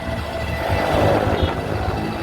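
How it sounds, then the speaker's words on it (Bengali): A steady low rumble of a metro rail train rolling past overhead in Uttara, Dhaka, a dense broadband roar that swells slightly in the middle and stays continuous throughout. "উপরে দেখেন মেট্রো রেল আছে"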